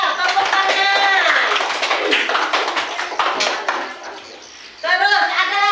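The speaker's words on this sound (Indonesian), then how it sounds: "Tepuk tangan" Children in an Indonesian classroom clap their hands together after a teacher's prompt, a dense burst of taps mixed with young voices and speech, fading toward the end before voices rise again.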